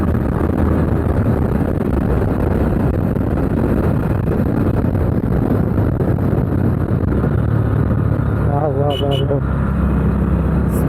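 A Honda Highness CB350 motorcycle on a ride in Tamil Nadu: a steady engine drone under heavy, continuous wind rush, with a brief wavering tone near the end.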